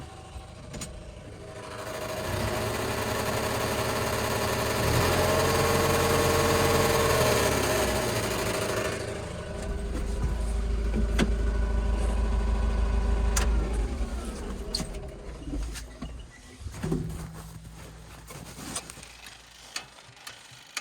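A Kubota tractor engine idles, rises into a sustained rev with a deep rumble, then drops back and runs unevenly, with ticking and clicks toward the end as the fan rubs on something.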